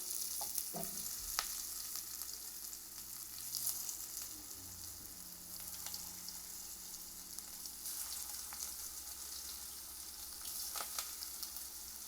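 Raw banana coated in spice mix frying in three tablespoons of hot coconut oil in a pan, a steady soft sizzle with a few faint clicks of pieces being placed, close but quiet.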